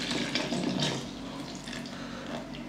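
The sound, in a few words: water being poured into chicken cough remedy mixture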